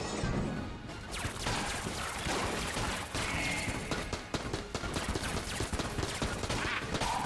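Rapid bursts of gunfire from the video game Enter the Gungeon keep up a dense barrage with clattering impacts layered over the game's background sounds, loud and nearly continuous throughout.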